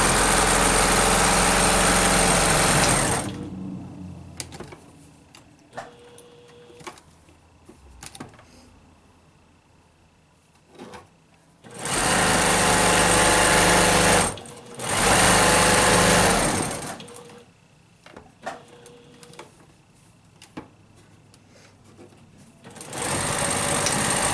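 Sewing machine back tacking over elastic ear loops on a fabric face mask: loud bursts of stitching at the start, middle and end, with quieter handling and fabric sounds in the pauses between runs.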